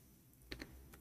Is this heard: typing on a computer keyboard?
yes